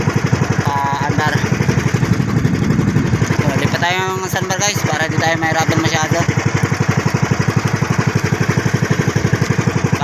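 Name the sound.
troubled boat engine running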